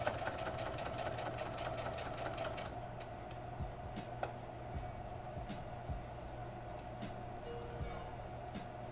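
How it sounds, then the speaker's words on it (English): A sewing machine stitching a sailor shirt runs with a steady mechanical hum and rapid rhythmic needle ticking, fairly faint, pausing and restarting in short runs. "I'm almost done sewing this, and I haven't messed up yet."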